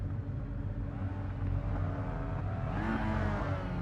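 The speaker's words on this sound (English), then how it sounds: "5 seconds to go until the lights come on and the revs rise" Race car engines revving at the start of an iRacing simulator race at Laguna Seca, a steady dense engine drone that swells and rises in pitch near the end, continuous and close.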